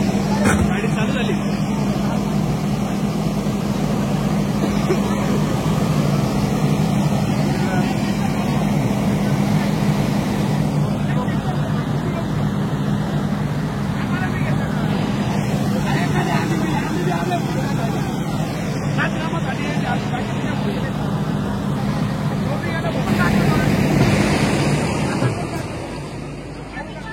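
A vehicle engine runs steadily just after starting, with a constant droning hum throughout. Crowd babble and background activity from a brass-band gathering sit underneath, and the sound fades slightly at the end.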